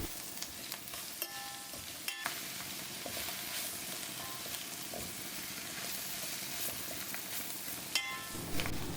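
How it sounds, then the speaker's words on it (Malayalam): Cooked clams are stirred with masala in a pan, producing a moderate steady sizzle with scraping strokes and occasional clinks of a spoon against metal, with no talk. "നമുക്ക് നല്ലപോലെ മിക്സ് ചെയ്തെടുക്കണം നല്ലപോലെ കക്കയിലോട്ട് നമ്മുടെ മസാല എല്ലാം കൂടെ നല്ലോണം ഒന്ന് പിടിപ്പിച്ചെടുത്ത്"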